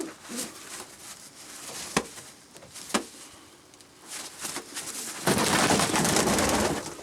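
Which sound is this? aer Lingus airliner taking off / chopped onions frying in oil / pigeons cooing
pigeons cooing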